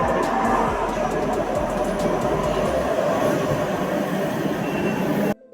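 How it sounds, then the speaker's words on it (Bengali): A Kolkata metro train arriving at the station, a loud steady rumble of wheels and carriages with faint squeals and clicks, then cutting off abruptly near the end. "আমাদের কালীঘাটে যাওয়ার মেট্রো ট্রেন আসছে"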